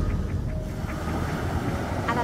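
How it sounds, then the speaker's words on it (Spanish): Ocean waves wash against a rocky shore near Ensenada, Baja California, giving a steady, close roar of surf with wind rumbling in the microphone and no break in the sound. "Atentos al oleaje"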